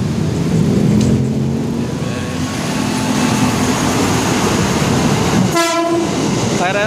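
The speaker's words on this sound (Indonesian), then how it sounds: "kereta Matar Maja melintas di stasiun Buaran" A long-distance train rumbles loudly through Buaran station on a busy line, with wheels clattering over the rails and a close horn blast near the end.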